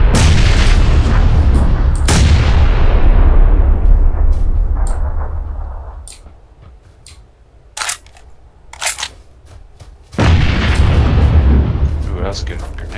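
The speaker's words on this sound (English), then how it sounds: "that's a good grenade" Two loud, booming grenade explosions in a video game, each followed by a long rumbling decay, with a few sharp clicks between them and voices talking faintly.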